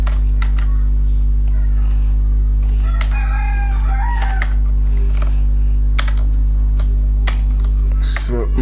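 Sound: typing on an external computer keyboard

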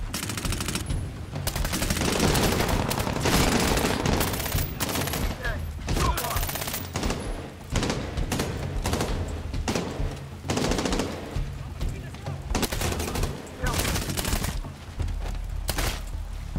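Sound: SMG gunfire in Medal of Honor: Warfighter video game

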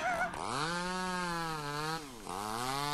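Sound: chainsaw in the Mad Father video game

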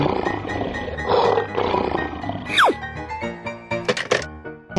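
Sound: lion roaring

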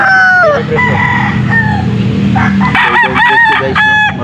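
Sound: roosters crowing at a pet market

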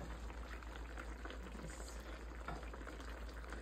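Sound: vegetables steaming in a pot with water

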